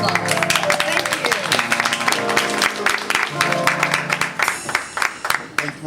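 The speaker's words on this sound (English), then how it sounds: "Give her a nice, big, warm applause." An audience at a live drum performance claps in a dense, continuous burst that stays loud and close throughout, with voices mixed into the applause.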